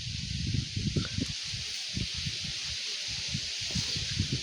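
Wind gusting through the trees of a Konkan village, a steady airy rush of leaves with low, uneven buffeting thumps from the gusts hitting close by, and no voices.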